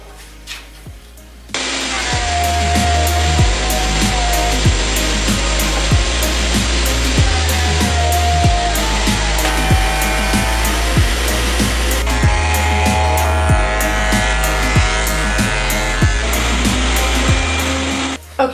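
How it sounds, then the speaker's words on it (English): An electric planer strips stain off wooden boards for a cutting board, a loud, close whining roar that runs almost continuously with brief dips between passes. "I'm just gonna start off by using my planer on all of these boards, just so I can get the stain off of all of them."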